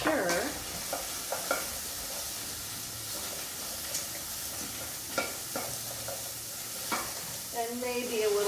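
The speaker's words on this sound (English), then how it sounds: "Give that a stir." Frying food crackles and sizzles in a pan while a utensil scrapes and stirs, with several sharp clinks and scrapes spaced through the steady hiss.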